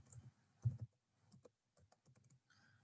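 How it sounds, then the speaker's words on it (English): Sparse keystrokes on a computer keyboard, soft and close, tapping in short irregular clusters with brief pauses between. "I'm just going to type in"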